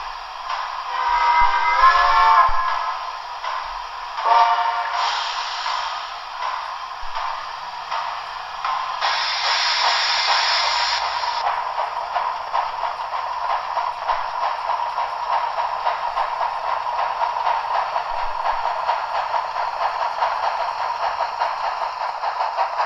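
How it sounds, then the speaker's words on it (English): A Märklin 38700 Shay model steam locomotive runs alone, giving a steady close chuffing and rapid mechanical clatter, more sewing-machine rattle than full hiss, with brief brighter whistle-like bursts early on. "it has a corresponding steam locomotive sound"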